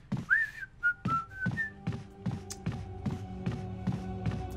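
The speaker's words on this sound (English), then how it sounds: "Where was that whistle?" A character whistles a short, rising tune in the Resident Evil video game, faint and brief, followed by a steady rhythm of footsteps thudding along.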